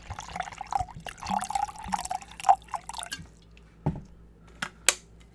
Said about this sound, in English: Pour it in your cup or something.